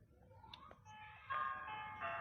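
Chase music from the Granny horror video game cuts in as Granny arrives, a tonal melodic cue over a low rumble that swells louder partway through and continues to the end.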